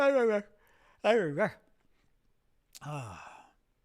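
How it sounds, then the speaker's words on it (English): A man yawns audibly several times, drawn-out voiced exhalations that rise and fall in pitch, close and clear against a quiet background. "I'm gonna yawn at you again."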